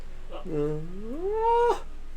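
A cat in a video game gives one drawn-out meow that rises and swells before cutting off, with a soft purring undertone, close and clear over a quiet game backdrop.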